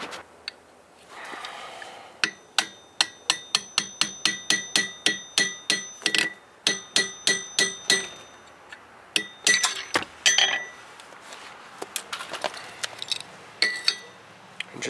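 Sharp metallic hammer strikes on a punch driven through a coin to make a ring ring out in a steady series, dozens of evenly spaced clinks, then a looser, messier burst of taps.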